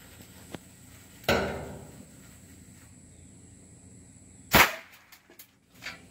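Homemade mouse cannon firing a soda can, heard as two sharp, fairly loud bangs with a few seconds between them, set against a quiet outdoor background with small clicks afterward.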